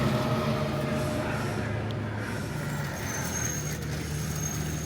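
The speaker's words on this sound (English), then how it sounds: "The truck is here" A delivery truck arriving outside a home rumbles steadily with a low engine drone that stays at a constant level and seems fairly close, with no talk.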